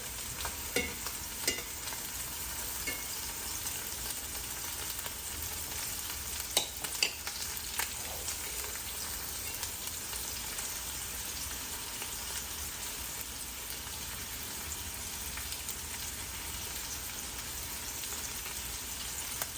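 Sea scallops frying in butter in a pan give off a steady, soft crackling sizzle, with occasional sharper pops and spits, heard alone.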